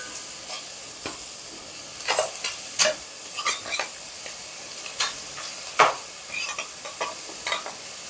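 Marinated chicken pieces fry in a layer in a surgical steel pan with no oil, a steady crackling sizzle broken by sharp pops and spatters, close and alone.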